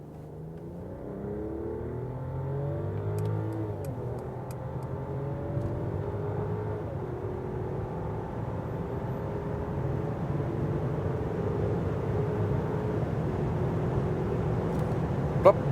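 An all-new Mercedes S-Class S500 accelerates in sports mode from low speed, its engine note rising in smooth climbing sweeps that are fairly quiet and muted from inside the cabin.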